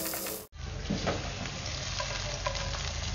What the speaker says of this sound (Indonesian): Dan ini kita tumis untuk ikan masak.